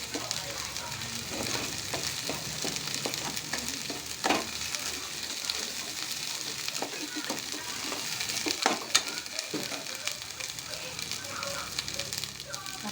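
Onion and spice masala for chicken frying in oil in a pan, with coriander powder and garam masala, a continuous close sizzle and crackle broken by repeated scraping stirs, with faint talk in the background.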